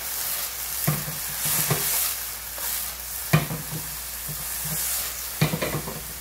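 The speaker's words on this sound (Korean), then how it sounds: "이거 주의하시면 무조건 센 불에 빨리 볶아주시면 돼요" Bean sprouts stir-fried over high heat with chicken powder and oyster sauce, a constant hissing sizzle broken by several sharp scrapes and clanks of a utensil in the pan, close and moderately loud with no speech.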